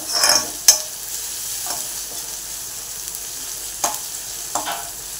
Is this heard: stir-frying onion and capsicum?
yes